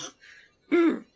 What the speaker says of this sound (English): A perfectly timed cough.